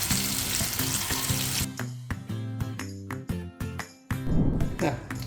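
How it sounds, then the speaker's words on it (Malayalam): Fish sizzles loudly in hot oil for the first couple of seconds of Kerala-style frying, then the hiss breaks off into intermittent crackles, with background music running throughout. "ഇനി ഫിഷ് ഫ്രൈ ചെയ്തത് പ്ലേറ്റിലേക്ക് മാറ്റാം."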